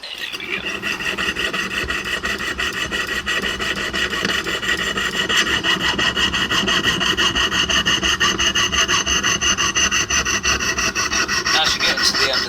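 A hand saw rasps through wood clamped in a vise with a steady, rapid back-and-forth rhythm, loud and close, continuing without pause.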